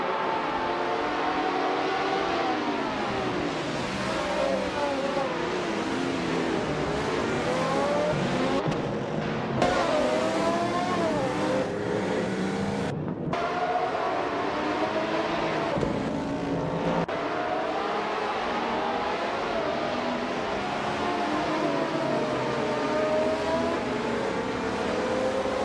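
Race car engines in a racing video game roar continuously, with many overlapping rising and falling whines as cars accelerate and shift. The sound stays loud and dense throughout, with a few brief dropouts.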